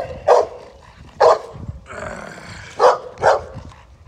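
A bully breed dog lets out four loud, sharp barks in two pairs, with a low rumbling growl between them, close by.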